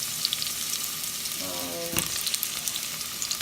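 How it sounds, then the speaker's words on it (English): Steady hissing and popping of food frying in hot olive oil, continuous and close, with a brief clink of a utensil partway through. "I guess you would call this frying."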